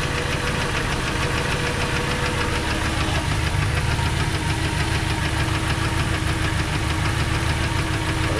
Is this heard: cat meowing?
no